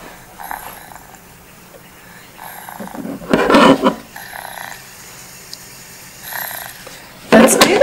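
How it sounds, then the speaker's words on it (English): Recorded snoring plays through a small speaker in a talking pillow toy, in repeated rasping breaths, some loud and harsh, separated by quieter pauses. "Sleeping and snoring."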